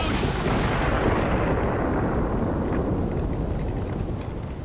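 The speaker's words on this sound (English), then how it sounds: "I think it's going to explode." A boss blowing up in Guild Wars 2: one huge, close explosion with a deep rumbling roar that hits at full force, then slowly fades and thins over a few seconds, with no voices.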